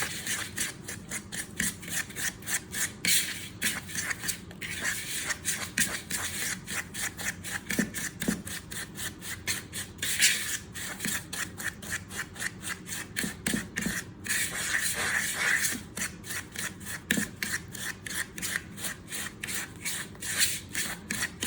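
Butter and sugar creamed together with a fork in a bowl for chocolate chip cookies, a steady rhythmic scraping and rubbing that repeats fast and close, with no talking over it.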